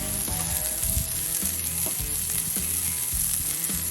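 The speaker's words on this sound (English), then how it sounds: "What we want on the plancha here, the burgers to get a nice char on each side." Burger patties sizzle on an oiled flat-top plancha grill, a steady close crackling hiss with a few faint metallic clicks and no voices.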